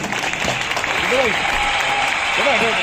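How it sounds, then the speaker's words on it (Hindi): Dense crowd applause at an outdoor street-corner election rally in Ballimaran's Quresh Nagar ward, steady and loud throughout, with a voice and faint tonal calls rising briefly over the clapping. "इनके लिए भी जोरदार ताली बजा दीजिए माशाल्लाह"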